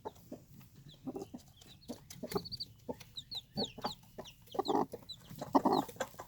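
A mother hen that has sat on a clutch of eggs clucks in short irregular bursts near at hand, her low calls mixed with high peeping from freshly hatched chicks, with no voices.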